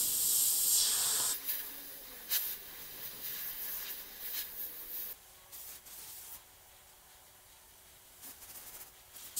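An airbrush hisses as it sprays paint onto a skull design, opening with a loud burst and then continuing in softer, intermittent short sprays.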